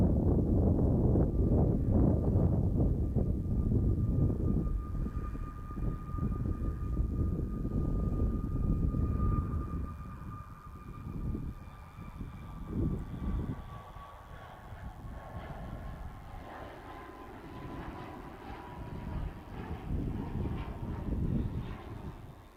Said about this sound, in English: Ryanair 737-800 Max, and it's off to Murcia.